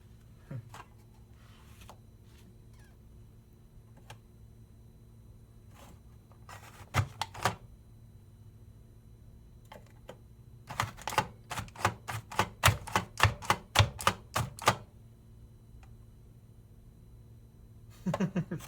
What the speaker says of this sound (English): I'm gonna try this little chopper out. I cut the onion into eighths, so it's the right size to put under this thing.